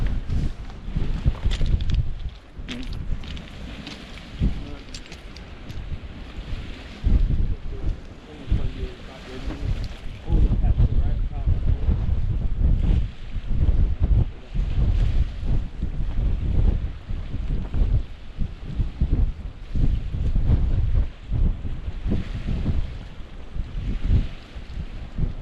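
Steady wind buffets the microphone on the River Humber during a sea fishing session, a loud broadband rumble that gusts and drops throughout with no voices.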